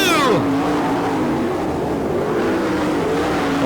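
Sprint race cars roar around the Lawrenceburg dirt track during an All Star Circuit of Champions heat race, loud engines sweeping past with a rising then falling pitch before settling into a steady distant drone.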